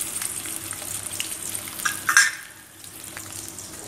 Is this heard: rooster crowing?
no